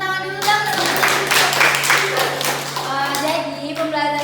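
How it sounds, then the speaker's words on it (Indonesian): A classroom of children clap their hands together in a burst of brisk, dense clapping that builds and fades over a few seconds, with a sustained hum in the room. "Beri tepuk tangan dulu dong."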